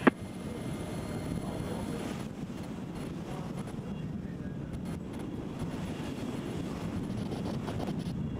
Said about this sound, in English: Okay, so the helicopter is coming back.